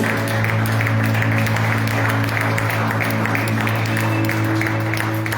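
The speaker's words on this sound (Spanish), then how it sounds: "Vamos a dar un fuerte aplauso a nuestro Dios." Sustained, dense clapping from a church congregation, steady and loud throughout, over a low continuous hum.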